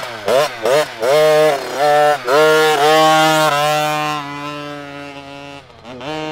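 A gas-powered 50cc kids dirt bike engine blips and revs in short bursts, then holds a loud buzzing, high-pitched whine nearby before easing down.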